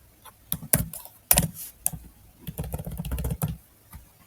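Close computer keyboard typing while code is written, with uneven bursts of clicky keystrokes separated by short pauses.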